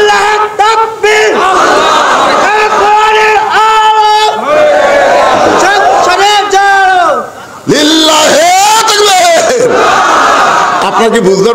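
A large crowd roars takbir, Allahu Akbar, in repeated loud massed chants at a Bangla religious sermon gathering in Bogura Sadar, with each surge of voices rising and falling in rhythmic waves.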